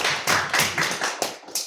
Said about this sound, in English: a strong round of applause for both our